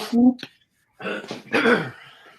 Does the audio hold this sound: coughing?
yes